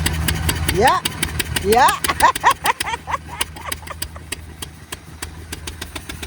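A farm vehicle's engine runs at a Dutch farm, a steady rhythmic idling chug with close exhaust pulses, while people talk briefly over it.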